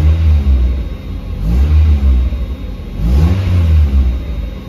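Mazda MX-5 Miata NA8 four-cylinder engine revving up twice from idle after an ECU capacitor replacement, each rise and fall clean and close, with no talk.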